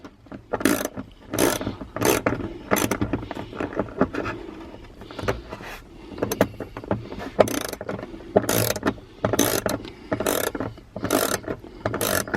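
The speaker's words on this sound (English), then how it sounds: "So utilizing about a 7mm socket, I'm going to undo this guy." A 7mm socket on a hand ratchet loosens a screw on a Jeep JK dash, giving repeated bursts of close, crisp clicking strokes separated by short pauses.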